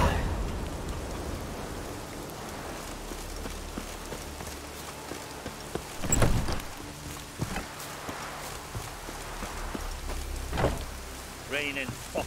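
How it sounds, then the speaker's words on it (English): Steady rain falls in The Witcher 3 video game, a continuous hiss on surfaces with occasional footsteps and brief sounds over it; no one speaks. "Raining fucking buckets."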